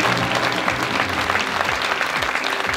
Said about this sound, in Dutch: mag ik uw applaus voor een mogelijkmaker pur sang